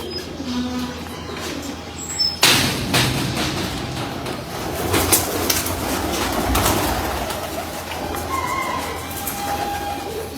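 Champion breeder pigeons coo in a loft, soft cooing and bird sounds mixed with a continuous rumbling, train-like background noise that begins abruptly and carries on steadily, no talk heard.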